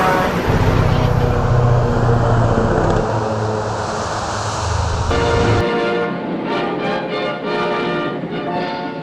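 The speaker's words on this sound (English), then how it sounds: "this 8-wheel drive, diesel-powered vehicle has become the backbone of American logistics" HEMTT eight-wheel-drive diesel military truck driving: a steady, loud low engine drone with road rumble that keeps going, then shifts to a smoother hum partway through, with a voice talking over it.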